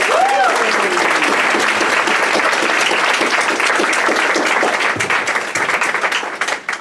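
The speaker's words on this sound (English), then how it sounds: "Give a round of applause to Lucy!" A crowd at a Just Stop Oil climate talk in Manchester applauds a nervous speaker with loud, sustained clapping and a brief whistle at the start. The applause holds strong, then loosens into scattered claps as it dies away.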